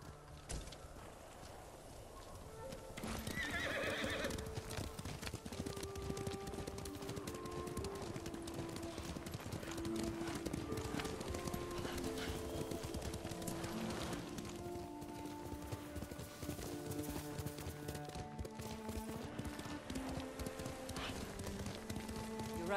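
Horse hooves clip-clop at a steady galloping rhythm in the samurai video game Ghost of Tsushima, continuous and close, with faint wind and music beneath.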